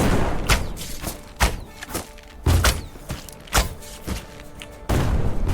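A turret fires in the airship game Black Skylands, delivering heavy booming thuds at a steady, slightly irregular pace, roughly every half second to second, loud and close with no speech over them.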